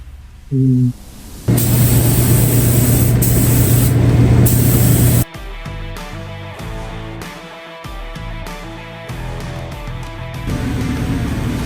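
An airbrush sprays coats of gold powder-pigment paint mixed with reducer and clear intercoat on an automotive or motorcycle custom job, giving a loud, steady hiss that cuts off, then continues with a rougher, fluttering spray noise.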